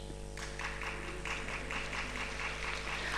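An audience at a spiritual talk claps in a run of fairly even, rhythmic bursts over a steady background hum, moderately quiet, with no voices over it.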